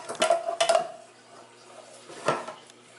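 Leafy greens tipped into a cooking pot, a few short metallic clanks and scrapes of a spoon against the pot in two bursts with quiet pauses between, no talking.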